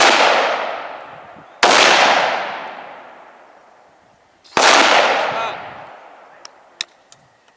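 Three loud, close gunshots from a .243 Winchester rifle, each followed by a long, rolling outdoor echo that fades away, then a few small metallic clicks at the end.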